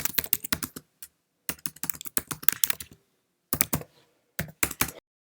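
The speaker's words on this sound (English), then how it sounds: "We can also type in a message if we wish to." Bursts of key clicks from someone typing a message on a Mac keyboard, close and crisp, arriving in quick runs separated by short pauses.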